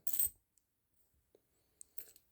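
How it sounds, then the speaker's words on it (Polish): Silver commemorative coins clink against each other in a few sharp, brief metallic taps, with near silence between them. "tutaj mamy monety okolicznościowe"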